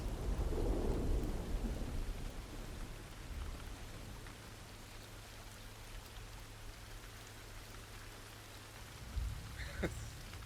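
Rain and rolling thunder in the video game The Last of Us make a steady wash of downpour with a low rumble near the start, plus a few brief knocks toward the end.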